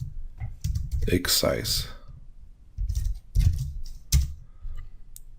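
Bursts of computer keyboard typing with clustered key clicks, close and fairly loud, broken by short pauses while a person speaks briefly.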